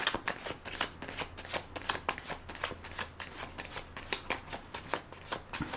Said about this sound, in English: And I will put another rifle and shuffle on the deck.